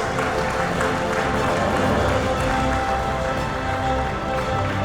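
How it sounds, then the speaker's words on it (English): A large crowd applauds at a real estate firm's anniversary celebration at the Galadari Hotel, honoring a man's 15 years of service, with dense, continuous clapping that holds steady and loud throughout. "he deserves a bigger round of applause, and keep the applause going"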